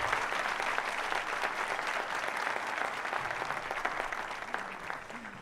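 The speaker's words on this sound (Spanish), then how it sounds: "Un aplauso, por favor, para el doctor Rodríguez Belcé." A university lecture audience at the Universidad Católica Boliviana claps in a dense, even wave of applause that continues throughout and tapers slightly near the end.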